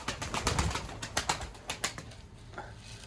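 Pigeons coo and flutter nearby, with soft calls and several bursts of wing flapping and rustling.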